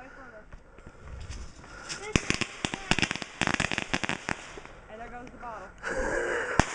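Fireworks and firecrackers burst at an Independence Day celebration in a sharp cluster of loud cracks and pops, rapid and irregular, mixed with crackling and people's voices nearby.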